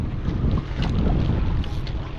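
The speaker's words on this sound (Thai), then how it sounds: "ลมหน่อยนะครับผม" Wind buffets the microphone at a seaside fishing pier on a beach, a steady close rumbling gust with sea noise beneath and no voices.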